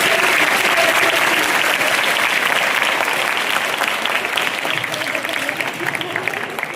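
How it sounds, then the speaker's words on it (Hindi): A school audience gives loud, vigorous applause for fifth grade students who earned A grades, a thick continuous roar of many clapping hands that gradually thins and softens toward the end. "तो जोरदार तालियां।"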